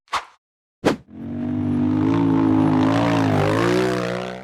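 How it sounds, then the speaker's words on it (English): Engine of a black off-road buggy revving hard and holding a loud, steady roar as it climbs a narrow, rocky dirt slope in a forest, after two short sharp bursts at the start. "The black buggy accelerated up a narrow, rocky dirt slope in the forest."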